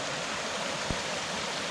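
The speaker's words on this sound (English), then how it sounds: "Little waterfall too." A small waterfall beside a hiking trail gives a steady, moderate rushing splash, with a single soft thump partway through.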